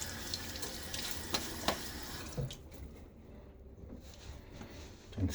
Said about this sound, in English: Let's get some water on my face.